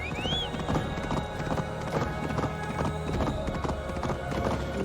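A horse in Assassin's Creed Valhalla clip-clops along with steady, rhythmic hoofbeats, close and prominent over a low ambient game bed, with a brief whinny near the start.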